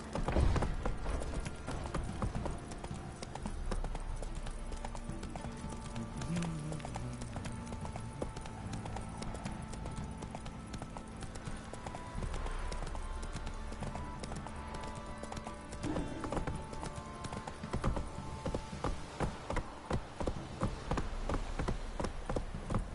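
Rhythmic hoofbeats of a horse galloping in the video game The Witcher 3, steady clip-clop across the whole stretch with game ambience beneath and occasional quiet voices.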